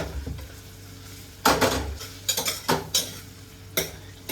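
Onion with capsicum and carrot frying in a pan for khichdi, a soft sizzle under sharp clinks and scrapes of a metal spoon stirring against the pan, in irregular bursts.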